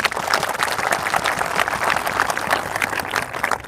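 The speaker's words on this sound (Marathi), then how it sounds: "त्यांच्यासाठी एकदा जोरदार टाळ्या वाजवा" An audience of trainees gathered at an address in Nashik claps together in a dense, steady wash of applause that holds at an even level from start to finish.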